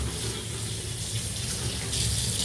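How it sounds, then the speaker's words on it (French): Tap water runs steadily in a kitchen sink as hands are rinsed under it, a continuous close hiss of running water without talk. "je vais me rincer un peu les mains"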